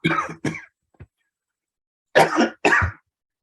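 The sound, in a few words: quick cough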